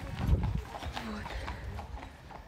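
Horse hooves clip-clop along the path up to Neuschwanstein castle in Germany, a few uneven thuds under outdoor ambience with people talking nearby.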